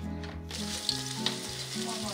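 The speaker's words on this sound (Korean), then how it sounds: "소리까지 맛깔스럽게 만들어지는 오징어 김치전." Squid kimchi pancake frying in oil in a pan, a steady bright sizzle with a couple of sharp pops, close and alone.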